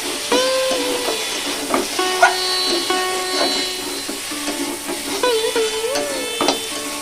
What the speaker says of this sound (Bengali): এগুলোকে দিয়ে একটু নেড়ে চেড়ে দিতে হবে